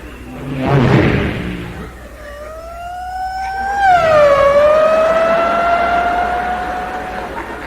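A voice imitates a fast car speeding past: a brief burst, then a loud whining engine pitch that rises and drops as it passes by, fading gradually.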